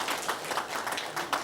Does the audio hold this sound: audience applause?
yes